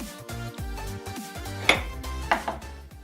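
A razor blade scrapes and cuts into a tiny white pumpkin clamped in a vise, making faint, irregular scratchy strokes with a few sharper clicks and taps close by.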